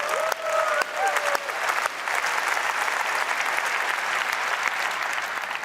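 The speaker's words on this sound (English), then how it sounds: "go ahead and clap for Microsoft 365" Audience applause at a Microsoft keynote, a large hall of clapping that sustains evenly for several seconds, with a presenter's voice briefly audible at the very start.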